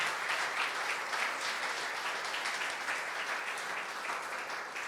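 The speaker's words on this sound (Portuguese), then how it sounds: "Pode aplaudir o Senhor" A church congregation claps together in steady, sustained applause that fills the room evenly from start to finish, with no voices rising above it.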